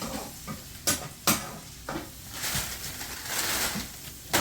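Cooking in a pan, with broad sizzling and scraping stirs that come in several sharp strokes over a steady frying hiss.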